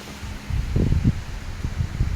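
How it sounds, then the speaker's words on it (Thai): Wind gusts through bamboo beside a rural Thai rice field, rustling leaves in a few rough bursts over a steady breezy hiss, close and moderately loud, with no talking. "มาเร็วลมมาแล้ว"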